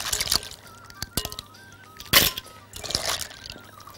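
Water trickles and drips off freshly washed herring left to drain in a kitchen, with a few soft clinks and a brief louder splash partway through, close and fairly quiet.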